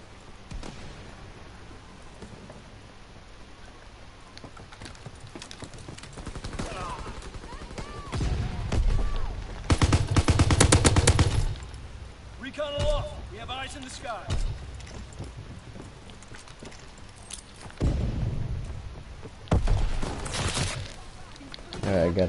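Light machine gun fire in Call of Duty WW2, with rapid bursts of rattling shots coming in several loud clusters among quieter game noise, and voices talking over it at times.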